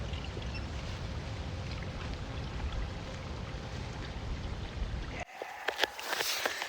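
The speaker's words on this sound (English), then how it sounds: "You can hear the river tones" A small river in Spring Mountain State Park, Nevada flows with a steady, soft rushing wash, then a brief break gives way to closer splashing and rustling.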